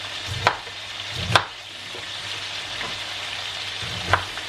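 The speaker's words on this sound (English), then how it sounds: "just roughly chop your cauliflower" Cauliflower is chopped roughly on a board for soup: three separate knife thuds spaced a few seconds apart, heard close over a steady background hiss.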